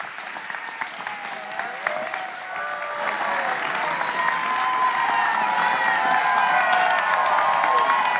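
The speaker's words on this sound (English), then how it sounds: "Let's give the other commissioner a big round of applause." Applause and cheering from the crowd at a town hall on rent security and tenant protection, steady clapping that swells gradually with whoops and shouts rising over it, fairly close and sustained.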